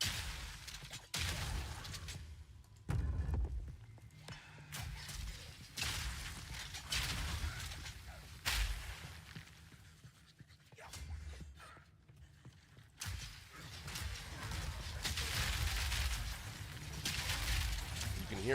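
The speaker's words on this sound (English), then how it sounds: "You can hear all the individual explosions happen." Repeated explosions from the video game Path of Exile burst in quick succession, a dense run of sharp blasts and whooshes at moderate loudness with brief pauses between clusters.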